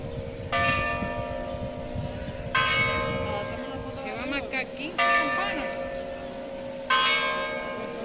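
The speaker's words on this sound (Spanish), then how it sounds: "las campanadas son exactamente las 3 en punto de la tarde" Church bells in Segovia ring three o'clock in the afternoon in a plaza: four clear, resonant strikes about two seconds apart, each ringing out over a steady hum of town background, with a bird-like chirp between strikes.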